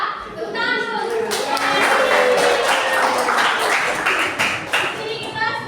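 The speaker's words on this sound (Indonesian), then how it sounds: "tepuk tangan dulu" Classroom of children clapping together in a lively burst of applause, with kids' voices chattering and calling out over the claps.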